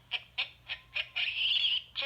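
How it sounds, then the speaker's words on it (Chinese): A children's animal sound book plays a recorded baboon's frantic call: a string of sharp, shrill yelps, then a longer strained cry, loud and close, with no talk. "这是狒狒疯狂的叫声。"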